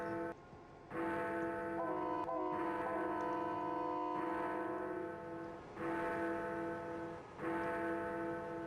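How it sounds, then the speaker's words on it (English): A resonant Roblox train bell rings out in sustained, harmonic tones like a church bell, struck several times with long ringing decays between strikes, clear and close with no talking. "We got a working bell."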